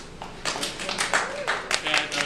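Scattered, uneven clapping from a small stand-up comedy club audience comes in short bursts, with some people talking and murmuring over it.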